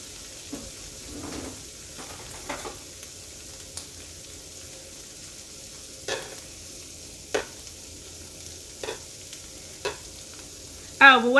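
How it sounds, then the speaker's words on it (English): Shrimp frying hibachi-style on a hot surface under a soft, low sizzle, with a series of separate sharp scraping turns from a spatula spaced several seconds apart and a louder burst at the end. "You can go ahead and start turning the shrimp over."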